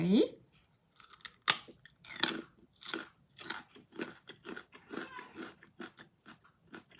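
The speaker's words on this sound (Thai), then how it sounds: "เรามาเทสความกรอบว่ามันจะกรอบขนาดไหน" Raw kohlrabi bitten into with a sharp, loud crunch, followed by a rapid run of close crisp chewing crunches that repeat steadily through the rest of the clip.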